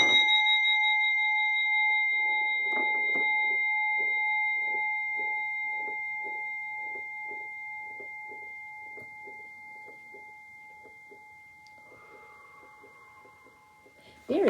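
A sustained electronic chime rings steadily at a clear level throughout a children's breathing exercise, with a soft rhythmic breathing or murmur pattern pulsing under it before a brief voice at the end.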